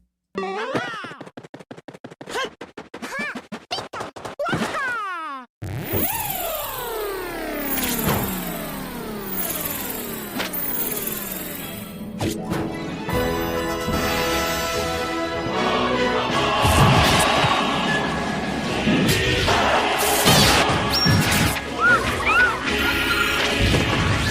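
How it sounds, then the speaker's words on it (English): Trailer soundtrack for the video game Super Smash Bros. Brawl, 2006 E3: sharp hits and sweeping whooshes open it, then a dense, loud blend of music, crashes and effects builds steadily to the end. "play a little bit of the Super Smash Brothers Brawl E3 trailer from 2006"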